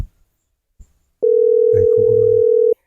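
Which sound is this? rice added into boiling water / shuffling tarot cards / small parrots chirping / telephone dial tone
telephone dial tone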